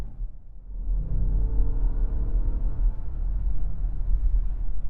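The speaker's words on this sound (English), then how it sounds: "I like being able to hear the engine in that quite subtle, just sort of hums away." A luxury car's engine hums steadily while cruising, a low continuous rumble that holds even throughout, subtle and unbroken.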